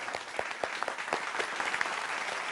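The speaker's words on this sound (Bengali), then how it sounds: "জোরে একটা হাততালি হয়ে যাক" A short round of hand clapping from a small group at a gathering, quick scattered claps that stay fairly faint and steady, with no talking over them.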